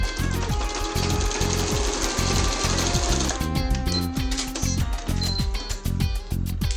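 A sewing machine stitches fabric squares together, its needle hammering in fast, even bursts. The runs are close and clear, with a brief pause and uneven stretches partway through.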